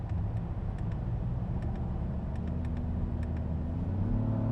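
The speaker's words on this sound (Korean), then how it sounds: "변속이 얼마나 빠른지 지금 시속 100km에서 기어를 한번 쭉 내려보도록 하겠습니다" A Genesis GV80 Coupe with an 8-speed automatic, heard from inside the cabin, downshifts at about 100 km/h: a steady engine and road rumble swells slightly as the revs rise near the end.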